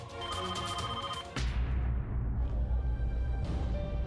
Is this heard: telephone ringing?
yes